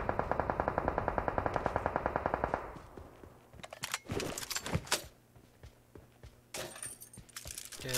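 An MG3 light machine gun fires in PUBG Mobile: a fast, evenly spaced burst of loud shots for a couple of seconds, then scattered sharp cracks, clicks and clatter.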